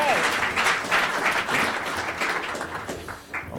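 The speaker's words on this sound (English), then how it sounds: "Give him a round of applause." An audience applauds after a startup pitch at a pitch event, a dense wash of clapping that swells and dips slightly, with some crowd murmur mixed in before it thins toward the end.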